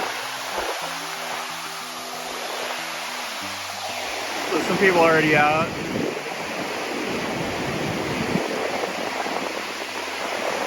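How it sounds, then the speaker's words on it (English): Ocean waves at high tide rolling onto a narrow beach in Hua Hin, Thailand, a steady broad wash of surf with wind noise on the microphone, running continuously under a voice talking. "and the waves are quite loud."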